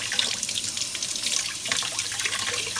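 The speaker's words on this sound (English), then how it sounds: "We're going to wash everything really good because the peel is even good." Vegetables being washed under a running tap at a cabin: a strong continuous rush of water with splashing and dribbling as produce is rinsed, close and fairly loud, no talking.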